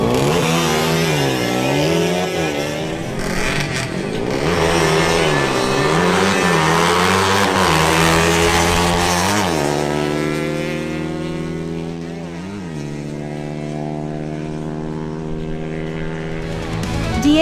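A Yamaha RX 135 and a Pulsar NS200 roar down a drag strip, loud engines revving hard with repeated gear-shift dips in pitch, then a steady high whine as the bikes pull away.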